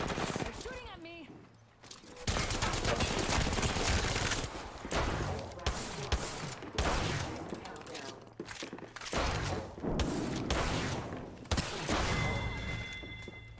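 Apex Legends gunfire rattles almost continuously in loud automatic bursts with brief pauses between volleys; the shooting is close and dense, and a voice is heard over it.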